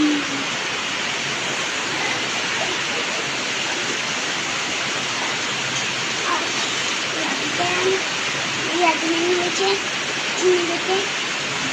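Rain falls steadily as a dense, even hiss of drops, with faint scattered sounds rising near the end.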